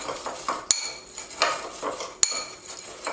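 Chili lime seasoning salt being stirred with fresh lime zest, a utensil scraping and clinking softly against a bowl in a steady rhythm, with two sharper clinks standing out, close and fairly quiet.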